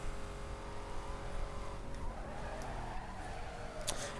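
A Renault 5 Turbo 2 racing a lap in Need for Speed: Most Wanted: a steady, close engine drone with tire noise running throughout, plus a brief skid or scrape near the end.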